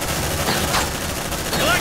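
Gunfire in the sci-fi video game Aliens Dark Descent, a dense, continuous burst of shots over a steady roar of game noise, with voices shouting over it.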